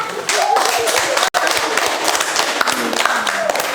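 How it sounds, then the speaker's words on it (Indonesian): Students clap together in a classroom during a lesson on Islamic scholars, a close, fairly loud burst of applause with some voices mingled in and one brief dropout near the middle. "beri tepuk tangan"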